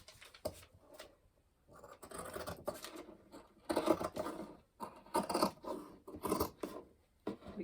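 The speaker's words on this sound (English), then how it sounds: "So let's go ahead and trim it here." Scissors snipping and scraping through fabric while trimming a sewn cup cozy, close and quiet, in several short cutting bursts with pauses between, no talk.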